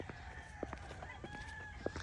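Chickens cluck around a house yard in Terrell, Texas, with a few soft, scattered clucks and calls over faint background noise.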